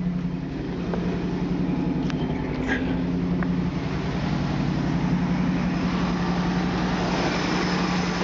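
A 1979 International Scout II with a 345ci V8 and a slightly sticking throttle runs at a steady low idle, a constant close engine drone with a few light clicks and rattles over the top.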